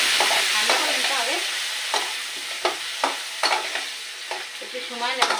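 Spice paste frying in a pan while a spoon stirs it, sharp scraping strokes at an uneven rhythm over a crackling sizzle, close and fairly loud with no voices.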